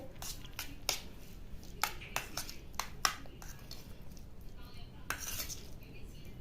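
Cooked rice is mixed with milk and ghee in a bowl, with scattered light clinks and scrapes of a spoon against the dish and soft squishy stirring, quiet and close.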